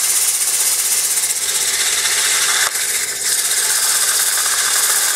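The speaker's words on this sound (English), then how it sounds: "180 grit. It's cross sanding." Continuous abrasive whir of power sanding with 180 grit across a poplar bowl, steady and close with a faint mechanical pulse, briefly dipping midway.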